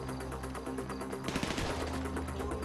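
Rapid assault shotgun blasts in GTA Online survival mode, a dense, steady barrage of close, loud shots with game music and effects layered underneath.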